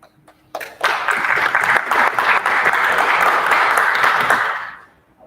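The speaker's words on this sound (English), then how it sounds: "I fully expect an applause since I'm doing the closing tonight" An audience at a school athletic recognition night breaks into applause for the closing speaker, a sudden burst of dense clapping that holds strong for several seconds before tapering off.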